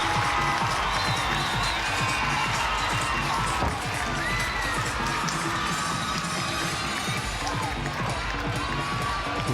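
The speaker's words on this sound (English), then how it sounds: "You hear the cheering in the background from the home crowd." Home crowd cheering at a college gymnastics meet, a loud continuous roar of shouts, whoops and clapping that fills the whole stretch with little change.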